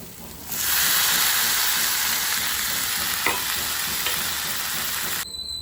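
Broad beans tip into hot oil with ginger and green chillies and set off a loud, steady, close sizzle. It holds evenly for several seconds with a few small pops, then cuts off abruptly.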